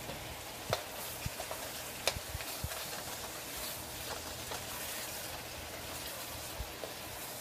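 Stir-fry vegetables are tossed back into a hot pan with the rest of the contents, a soft steady sizzle and hiss under scattered light clicks and taps of a utensil against the pan.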